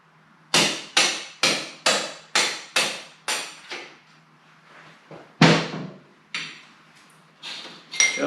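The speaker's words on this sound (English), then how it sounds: "I'm going to use that thread rod again to drive that bolt out the other side" Threaded rod being struck to drive a bolt out on a 1972 Harley-Davidson Sprint 350 barn find: a steady run of loud, ringing metallic blows, a short pause, then a few heavier irregular hits close by.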